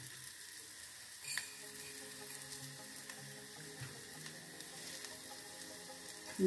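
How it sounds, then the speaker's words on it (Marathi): Coriander seeds roast in a pan alongside other spices for a spicy patodi rassa curry, making a faint, steady sizzle with an occasional stirring knock and no voices. "धने पण छान लालसर भाजून घ्यायचे"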